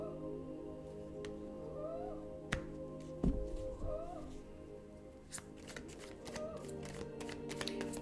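Tarot cards being shuffled by hand, a run of crisp papery riffles and flutters that builds toward the end, with a low steady hum underneath.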